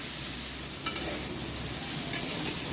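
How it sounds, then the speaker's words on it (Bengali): Bitter gourd, potato and spices frying in a pan give a close, steady sizzling hiss, with a couple of brief clinks of a spoon, no voices. "এখানে আমি জল দিয়ে দেব।"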